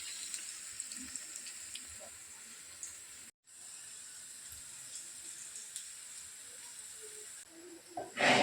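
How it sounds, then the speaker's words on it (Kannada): Dry cabbage manchurian frying in hot oil at home on a rainy evening, a soft, steady hiss and sizzle heard close but faint, with a brief drop-out partway through and a short louder clatter at the end. "ಎಲ್ಲನೂ ಫ್ರೈ ಮಾಡ್ಕೊಳತ್ತೀನಿ"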